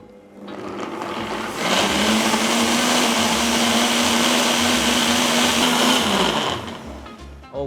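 A blender whirs loudly and steadily for several seconds, blending tomatoes, paneer and garlic into a sauce, its motor pitch settling once it gets going, then winding down at the end.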